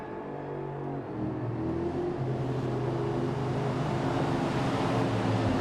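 Race cars in a NASCAR racing game idle and roll slowly as they form up on the track, a steady low engine drone that swells slightly, with no talk.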